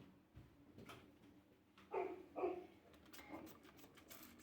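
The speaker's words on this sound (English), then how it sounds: "there's a very excitable dog outside the studio today" An excitable dog barks a couple of times outside an art studio, two fairly loud yaps close together, heard faintly beyond the room over a low background hum.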